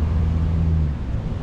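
The engine of a 2022 Smoker Craft pontoon boat idles with a steady, loud low-pitched rumble and a droning tone that fades slightly partway through.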